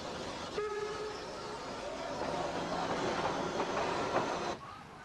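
A 0-4-4-0T Mallet steam tank locomotive on the meter-gauge Selketalbahn rumbling past at moderate distance, with a steady rolling din, rhythmic mechanical clatter and a brief whistle tone near the start.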